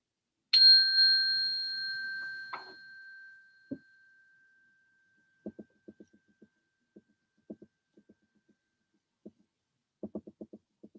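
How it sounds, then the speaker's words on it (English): A single bright bell rings out and slowly fades, followed by a second softer strike, then faint scattered clicks in near silence. "I'll ring a bell"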